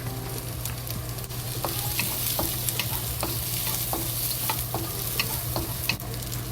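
Carrots fry slowly in a pan for a tofu soup, giving a continuous soft sizzle broken by frequent light clicks and scrapes of stirring, close and without talk.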